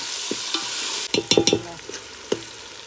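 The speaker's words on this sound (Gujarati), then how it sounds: "તો આ પૌવા ને મિક્સ કરી દીધા છે હવે ટમેટા તો ટમેટા નાખી દીધા" Poha and tomatoes are stirred in a pan over a wood-fired stove, giving a steady sizzle of frying. Several sharp, close scrapes and clatters of the spoon against the pan follow, with no talking.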